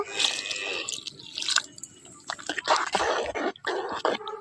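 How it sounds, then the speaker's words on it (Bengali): Water poured into a pot of cooking khichuri made with winter vegetables, tomato and coriander, giving a continuous liquid splashing and trickling with a few louder drips, close and alone. "খিচুড়ির মধ্যে জল লাগবে, আর একটু জল দিয়ে দেব।"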